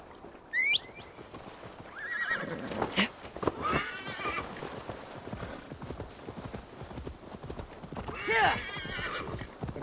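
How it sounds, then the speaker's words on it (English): In Assassin's Creed Valhalla, a horse's hooves clip-clop steadily while it neighs and whinnies loudly more than once, with a voice speaking over part of it. "Now to deliver Magni his horse."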